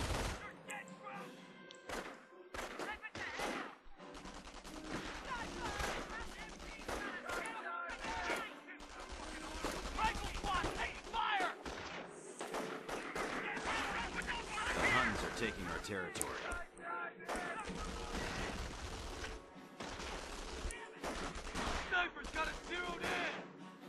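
Rifle squad gunfire in Company of Heroes, bursts of crackling small-arms fire from a fairly distant battlefield, with scattered thuds and a voice talking over parts of it.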